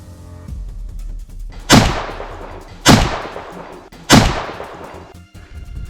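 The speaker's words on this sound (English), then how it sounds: "The gunshot rang out before the smoke had even cleared." A hunter's gun fires at a wild boar in Arizona countryside: three loud, sharp reports about a second apart, each cracking hard and trailing off in a short echoing decay.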